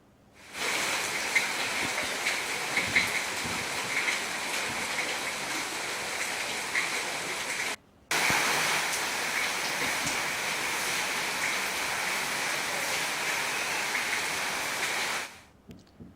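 Heavy rain pours in a steady, dense roar that runs unbroken apart from one short cut near the middle, loud and close with no voices.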